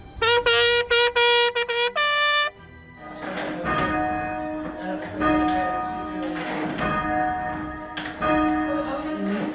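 Church bells ring loudly for King Charles III's coronation in a rapid run of clear, resonant strikes, then continue chiming more irregularly with overlapping tones and a lingering hum.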